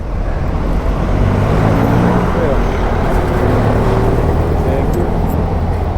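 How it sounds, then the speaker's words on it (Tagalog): Heavy road traffic in congested Philippine streets near Pateros, a dense, steady roar of cars, buses and trucks with low engine drone throughout and faint voices mixed in. "sobrang traffic po ngayon."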